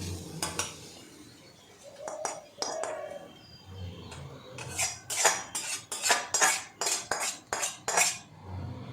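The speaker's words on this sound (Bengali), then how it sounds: "তারপর আস্তে আস্তে আমি পুরো চাউমিনটার সাথে ডিমটা ভালো করে মিক্স করে নেব" Egg being stirred into chowmein in a pan, with metal utensils clattering and scraping against the pan in quick close bursts, growing busier and louder toward the end over a faint sizzle.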